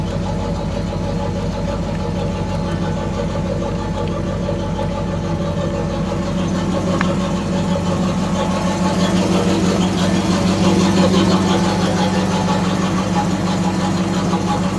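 A 1984 Camaro Z28 with Hooker headers idles steadily after starting, its low rumbling engine note continuous and close, holding an even rhythm with a slight swell near the end.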